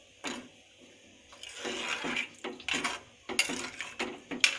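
Water is poured from a glass into a pot of rice for moong masala rice, heard as several splashing, gurgling pours with clinks of metal cookware between them, close and fairly loud.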